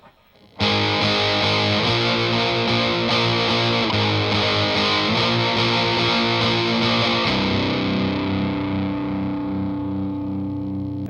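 Distorted electric guitar strums a run of chords from a song, then lets a single open note ring out and slowly fade, loud and alone.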